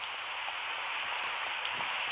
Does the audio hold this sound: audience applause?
no